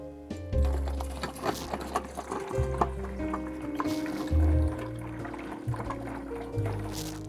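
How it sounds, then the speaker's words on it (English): Tap water pours into a one-vessel beer brewing system for an extract hefeweizen, a gurgling fill with a low hollow drone that shifts in pitch as the vessel tops up, close and steady. "Now I'm just gonna keep on topping this up with"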